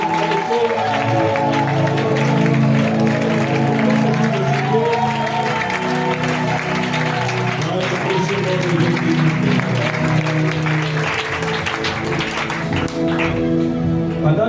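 Church congregation offering acclamations, a dense sustained wash of clapping and crowd voices with singing or chanting tones running throughout, loud and continuous.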